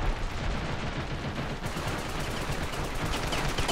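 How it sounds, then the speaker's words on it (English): Dense, continuous gunfire and explosive blasts in a Ravenfield battle, including a grenade launcher going off. The barrage stays loud and steady with no pauses. "Oh my, I panicked and shot my grenade launcher"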